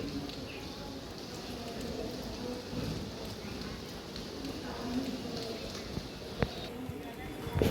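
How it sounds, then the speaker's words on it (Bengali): Steady drizzling rain makes a soft, even patter throughout, with a few light taps and a sharp knock near the end over the continuous wash. "আসলে কালকে রাত থেকেই বৃষ্টি, ঝিরিঝিরি বৃষ্টি"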